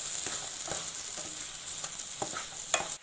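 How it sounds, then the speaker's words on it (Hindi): Onions and tomatoes sauté gently in a pan, a steady soft sizzle broken by scattered spatula scrapes and clicks, close and moderately quiet, with no voices. "अनियन और टमाटोज को हल्का हल्का सा सौते कर रही हूँ."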